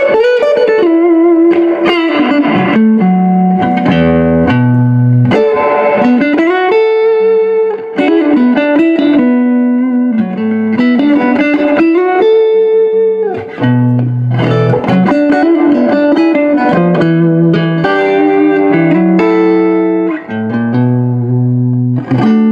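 Electric guitar played through a restored 1966 Fender Deluxe Reverb amplifier with its reverb on, sounding as a steady run of sustained melodic notes and chords with a reverberant tail, loud and close, with no talk.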